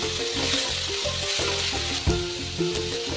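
Chicken curry masala with tomato, coriander and grated coconut sautés in a pan, giving a dense, continuous sizzle with a few soft stirring knocks, close and fairly loud.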